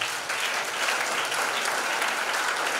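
A church congregation applauds during a sermon, a dense steady clapping that fills the space evenly for a few seconds, close and loud with no speech over it.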